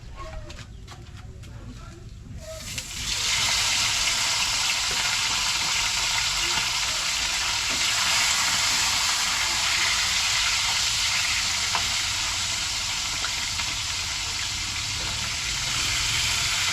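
Galunggong fish drop into hot oil and fry in a pan, a loud, dense, steady sizzle that swells after a quieter opening few seconds and holds to the end.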